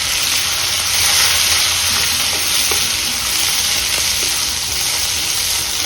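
Sliced onions and curry leaves fry in hot oil with urad dal in a pan, giving a loud, constant bright sizzle with faint occasional stirring scrapes throughout.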